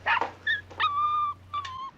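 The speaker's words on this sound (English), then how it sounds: "Oh, poor little puppy." A puppy whimpers in a TV episode, a few high thin whines and yips, the longer cries drawn out and wavering, close and clear over a low steady hum.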